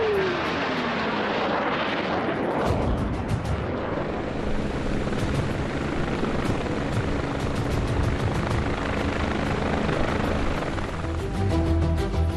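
Helicopter rotors and engines drone continuously near the Ladakh border. A deep, steady roar dominates from start to finish, with a faint rhythmic thudding underneath and a sweeping pitch change early on. No voices are heard.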